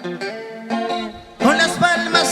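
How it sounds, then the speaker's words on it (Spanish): Electric guitar played live at a tropical-music Christmas concert, bright plucked notes with effects, growing louder and fuller toward the end with more instruments joining. "suena así la guitarra, Ángel"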